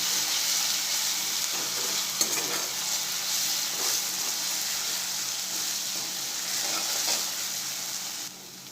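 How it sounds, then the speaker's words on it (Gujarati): Ginger, chili and garlic paste sautéing in a hot pan with fried garlic for green pea sev usal, a steady close sizzle and frying hiss with occasional stirring scrapes throughout. "હવે એમાં આદુ મરચાં અને લસણની પેસ્ટ એડ કરી દઈશું મિક્સ કરી લઈશું એને પણ આપણે સાંતરી લઈશું"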